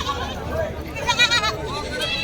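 Goats bleat at a rural livestock market, several short wavering cries rising over a busy background while people talk nearby.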